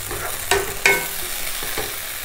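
Vegetables frying in a pan for vegetable saagu, with a continuous close sizzle broken by a few sharp stirring clicks and scrapes.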